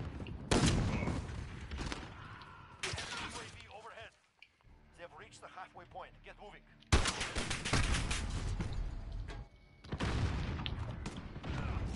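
Rapid bursts of MP7 submachine gun fire in Warzone, a video game. Several loud, close volleys are separated by brief lulls, with quieter game sounds in between.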